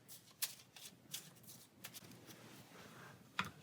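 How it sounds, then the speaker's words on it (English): Playing cards being shuffled during a Pathfinder Adventure Card Game session, with quiet riffling bursts and soft card snaps spaced out over a few seconds, fairly faint and close. "we'll shuffle that in"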